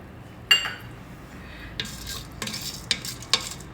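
A spoon stirs milk and sugar for semiya payasam in a Solara Magic Pot, scraping and clinking against the pot in several distinct strokes over a quiet background.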